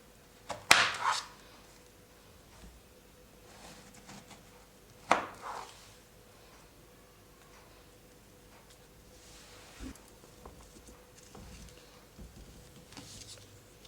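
A knife cutting a guava, heard as two sharp slicing chops near the start, then a few softer, sparse cuts later in the clip, close and otherwise quiet.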